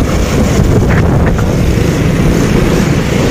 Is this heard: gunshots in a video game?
no